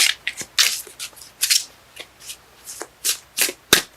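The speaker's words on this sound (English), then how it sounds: "Cards let me know when they're done shuffling." Tarot cards are shuffled by hand in a rapid series of crisp riffling bursts, close and clear, with short pauses between them and no talking.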